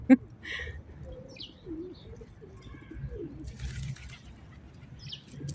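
Pigeons gathered in a park's small animal corner, soft cooing and occasional wing flaps up close, with chirps and light rustling over a low background hum.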